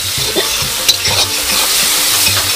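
Garlic and ginger paste sizzles in hot oil with browned frying onions while a spoon stirs, a close, loud, steady frying hiss broken by scraping strokes.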